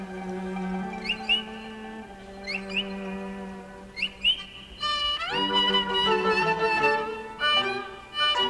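Musical instruments imitate birdsong, with short high chirping and trilling figures over sustained low tones, giving way to a fuller, brighter passage of layered whistling lines.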